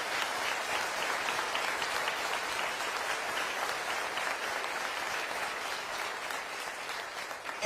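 Sustained applause from an audience at a county address, dense continuous clapping holding at an even level for nearly eight seconds with no voices rising above it.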